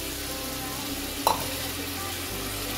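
Tomatoes go into fried spice paste in a pan for a tomato chutney, a low steady sizzle with one sharp clatter as they drop in, then continued quiet frying.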